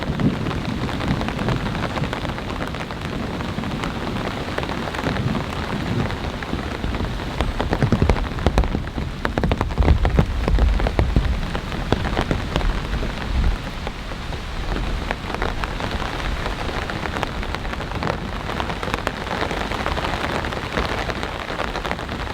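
Heavy rain from Hurricane Debby pours steadily onto an off-grid cabin, a dense continuous hiss of drops drumming on surfaces, loud and close, with a brief heavier swell midway and no voices.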